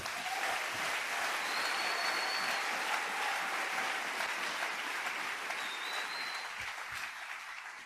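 A church congregation applauds steadily throughout, a dense, sustained clapping that fills the space at an even level and eases slightly toward the end.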